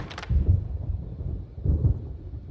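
Thunder rumbles from a storm in the video game Alan Wake Remastered, two low rolling booms a second apart over a dim background, with no speech.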